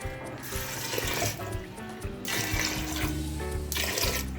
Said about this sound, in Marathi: याच्यामध्ये मी पाणी टाकलं आहे